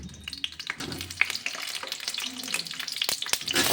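Potato pieces frying in oil in a pan for chicken biryani, a steady close sizzle with stirring clatters and scrapes throughout, no talking.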